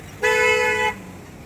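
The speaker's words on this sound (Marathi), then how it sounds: "हे बघा तुमच्या या कामाच्या अडथळ्यामुळे ट्रॅफिक झालंय" A car horn on a congested road in Naigaon East, where construction work is blocking traffic, gives one loud, steady blast lasting under a second over faint background road noise.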